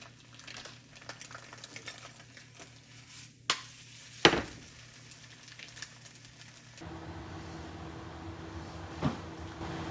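Food frying in cooking spray oil in a home kitchen, a soft steady sizzle with scattered clicks and clatter of utensils, growing denser partway through.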